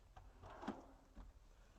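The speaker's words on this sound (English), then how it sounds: "the drawers are self-closing" A solid teak soft-close drawer on a True North 34 boat slides shut, a quiet glide ending in a gentle muffled thump, heard alone in a hushed cabin.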